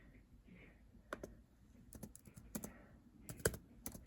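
Keys clatter on a Samsung Galaxy Chromebook Go (2021) keyboard, a slightly rattly budget laptop board, in bursts of quick, fairly quiet clicks with short pauses between, close up and with no talking.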